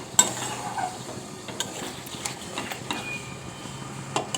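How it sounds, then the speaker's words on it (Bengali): Mutton is stir-fried slowly in a pan with oil, a soft continuous sizzle under occasional clinks and scrapes of a spoon against the metal, close but fairly quiet. "মাংসটা কিন্তু এখনও কষানো চলছে"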